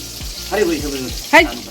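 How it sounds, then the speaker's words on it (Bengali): Pointed gourd (potol) frying in a pan at a home kitchen, a steady close sizzle, with brief voices in the background and a clatter near the end. "এই পটল ভাজা হচ্ছে পটল ভাজা হয়ে গেছে"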